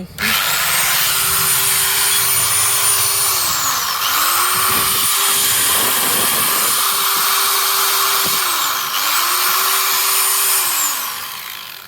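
An 820 W electric grinding machine spins up to a loud, steady high whine, winds down, and is switched on again twice, each start rising sharply in pitch before holding a constant roar.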